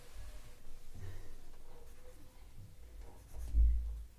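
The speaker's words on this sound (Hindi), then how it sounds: "डेफिनेशन लिखते हैं" A pen scratching on paper while a math definition is written out, a soft, steady low rubbing near the microphone with a louder stroke near the end, and no talking over it.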